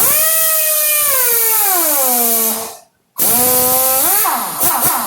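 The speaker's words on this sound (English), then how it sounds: "I'm going to get my impact gun, and I'm going to turn her way down" Air impact gun, turned down low, tightening transmission pan bolts: two close whirring bursts with a pitch that sags and then rises, split by a brief silence.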